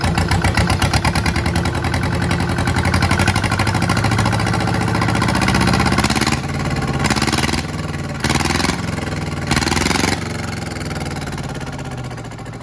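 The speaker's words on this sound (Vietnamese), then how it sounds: "Bây giờ anh em nghe tiếng nổ lớn của em động cơ 2LM nha. Sẽ đi lên ga lớn để anh em thưởng thức cái tiếng động." A Yanmar 2LM diesel boat engine, rated 24 hp at 3000 rpm, runs loud and close with a rapid knocking beat, then swells in several short revs toward high throttle before settling back.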